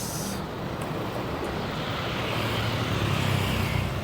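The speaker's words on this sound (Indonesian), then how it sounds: "Ini ada bis apa ini lewat nih," A bus passes along a road in Indralaya toward Palembang, heard as a steady, loud roar of traffic and rushing wind that swells slightly toward the end, with no talk.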